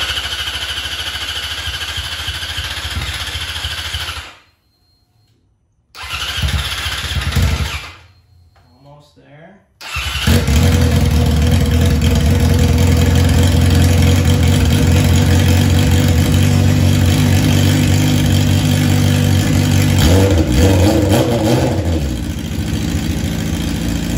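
Yamaha R6 sport motorcycle after throttle body and TPS repair cranks and fires up, with a loud engine idling close by and some rising revs, broken by brief silent gaps before it settles into a steady run.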